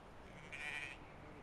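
Goats on a farm give a single short bleat of medium loudness, heard a short way off against a quiet outdoor background.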